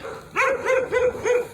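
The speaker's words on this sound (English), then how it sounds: "So, pardon about the neighbor dogs here." Neighbourhood dogs barking close by, four loud barks in a steady, evenly spaced rhythm, heard alone without talking.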